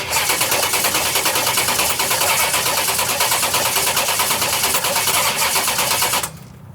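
Drag car engine cranking over on dry carburetors with gas-soaked air cleaners, a loud continuous churning and rattling close by for about six seconds, then cutting off abruptly.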